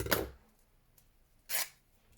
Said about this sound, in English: let's do a little snip there